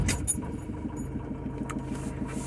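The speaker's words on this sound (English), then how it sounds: "So I'm gonna start the engine and see what happens with this." A badly running Citroen Relay van engine idles with a steady, rhythmic low chugging pulse, close and continuous throughout.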